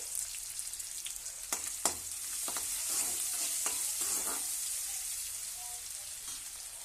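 Sliced onions fry with salt in a pan, giving a continuous bright sizzle with several sharp scrapes and knocks from stirring in the first half.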